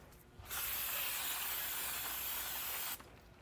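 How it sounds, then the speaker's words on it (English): A single sustained spray of brake cleaner hisses loudly for about two and a half seconds, then cuts off, close by in a quiet space. "I'm just gonna clean them and spray them down with brake cleaner,"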